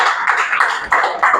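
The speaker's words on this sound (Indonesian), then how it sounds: "Oke, tepuk tangan dulu untuk kita semua ya." A school class claps their hands together, a loud, close burst of about five uneven rounds of clapping with brief dips between them and no talking.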